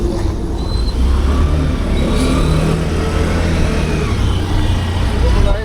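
Cars, trucks and other vehicles edge slowly through a congested road in a traffic jam, a continuous close rumble of idling and revving engines with faint horns, loud throughout.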